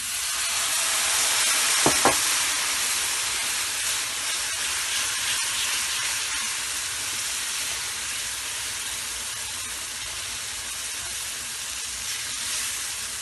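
Water poured into a hot pan for a chicken sizzler seasoned with red chilli, salt, Cajun spice and white pepper gives a loud, steady sizzling hiss that lasts throughout, with a brief clank early on.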